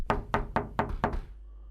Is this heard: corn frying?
no